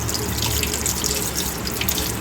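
Tap water runs steadily over adenium plant roots as soil is rinsed away, a continuous close splashing wash with no speech.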